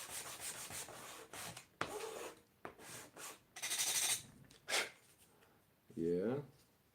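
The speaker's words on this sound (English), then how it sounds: "Sand a little bit" Small beech wood pieces for a 1/12 scale dollhouse box are sanded by hand in several short, scratchy bursts separated by quiet gaps, close and fairly soft; a brief voice-like tone comes in near the end.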